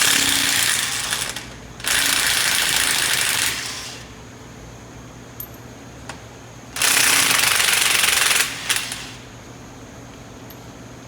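A power tool removes hub bolts on a 2012 Ram 3500 during axle seal work, sounding in two loud, rattling bursts of about two seconds each, separated by quieter shop background.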